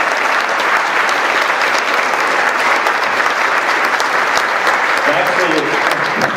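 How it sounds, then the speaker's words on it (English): Loud, dense applause from a Celtic Christmas show audience welcoming a troupe of Scottish Highland dancers, steady and sustained throughout with a faint voice surfacing near the end. "Please give them a big applause."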